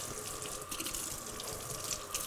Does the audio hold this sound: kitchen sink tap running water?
yes